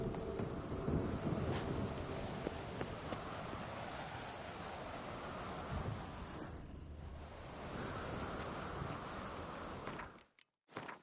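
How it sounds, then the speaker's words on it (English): A thunderstorm in the video game The Witcher 3: Wild Hunt: steady rain and wind with low rumbles of thunder, fairly faint and continuous, dropping away abruptly near the end. "A storm, damn it."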